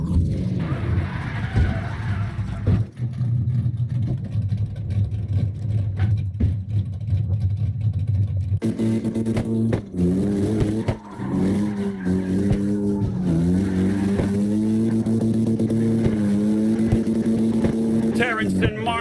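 Four cars drifting in tandem on a street course in the CarX Drift Racing Online video game, a loud, continuous roar of engines and squealing tires that swells into a higher, wavering whine midway through.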